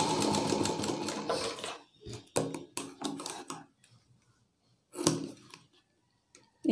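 A sewing machine stitches piping onto a blouse front in bursts: a long loud run at the start, then shorter runs with pauses, and a final burst near the end.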